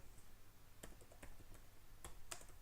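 Code being typed on a computer keyboard for a React JS component, a quiet, sparse run of separate key clicks in a few short bursts at close range.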